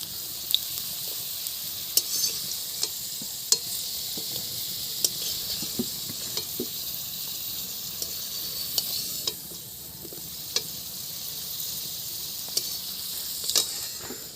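Potato pieces frying lightly in oil in a pan, a steady close sizzle with scattered crackles and pops and occasional stirring clicks.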